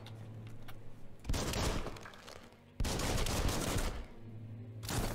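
Gunfire bursts from shooting in the video game Biomutant, loud sustained volleys in two long stretches with a brief gap, then another burst starting at the end, with no talking.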